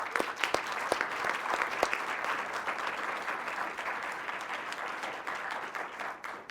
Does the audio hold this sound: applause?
yes